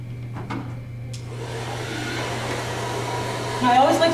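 A handheld blow dryer drying a woman's hair gives a steady, close whooshing hum with an airy hiss that grows slightly louder near the end.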